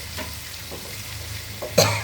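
Turmeric hits hot tempering oil for tamarind rice, a close, continuous sizzle with light stirring, swelling into a louder crackle at the very end.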